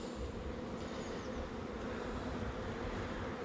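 Honey bees at an opened spring hive, a steady dense buzzing drone that is continuous and fairly faint, with no speech.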